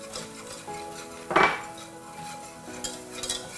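Corn and flour roasting in olive oil in a pan, quiet utensil scraping with one sharper clink against the pan over a faint sizzle.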